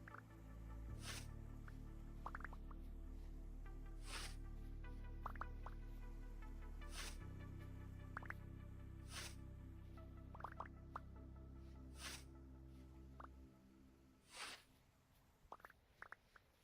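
Water dripping in the Vintage Story video game: scattered single drips and small plinks at irregular intervals, fairly close and clear, over a low steady rumble of ambient game sound, with no talk.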